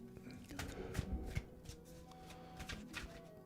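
Playing cards are riffled and shuffled close by, with soft rapid flutters and a few taps against a table, quiet throughout.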